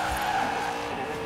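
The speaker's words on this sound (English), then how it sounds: "You can do drifts and stuff." In a racing video game, a car drifts with a loud, sustained tire squeal over steady engine noise for about a second.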